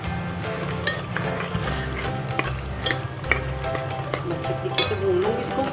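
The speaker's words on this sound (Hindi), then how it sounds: "अच्छे तरीके से भून लूँगी इसको।" Keema cooked with about half a cup of yogurt sizzles and fries in an oil-filled pan while it is stirred, with a steady close frying hiss, scraping spoon strokes and occasional clinks of utensils throughout.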